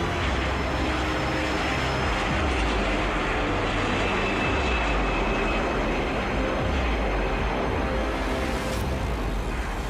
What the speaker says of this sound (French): le vol Air France 447 décolle à 22h29 avec 30 minutes de retard